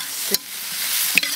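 Cured pork and chili peppers stir-fried in a hot wok: a continuous close sizzle broken by two quick spatula scrapes against the pan.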